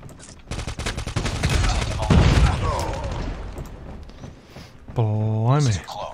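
Rapid submachine gun fire in the Call of Duty Mobile video game, dense bursts of shots crackling loudly across most of the stretch with heavy thumps, followed near the end by a short wavering tonal sound.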